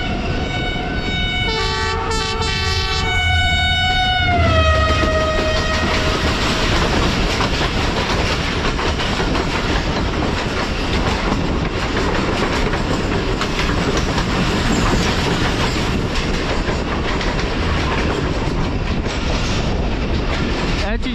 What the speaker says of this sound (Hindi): सियालकोट एक्सप्रेस अब किसी ट्रेन से मुलाकात करने जा रही है